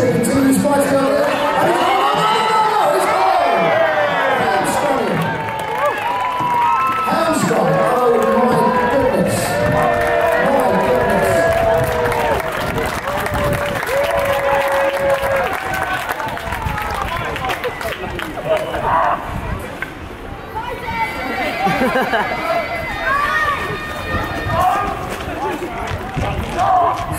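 Spectators at gladiator games during a Londinium festival at the London Guildhall cheer and call out, a busy crowd roar mixed with nearby voices and commentary-style talk, rising and falling over nearly half a minute.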